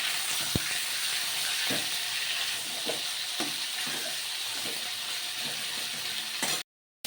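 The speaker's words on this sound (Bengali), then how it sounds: "এবার আমি একটু ভেজে নেবো হালকা করে একটু তেলগুলো একটু ভালো করে ভেজে নেবো" Salted chicken pieces fry in a little oil, a loud, continuous close sizzle with periodic stirring scrapes, cutting off briefly near the end.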